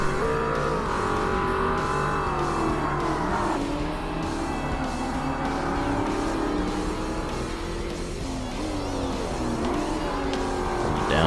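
Class S race car engine in Forza Motorsport during an endurance race, a loud continuous engine roar that climbs and drops in pitch through gear changes and cornering, with no talking.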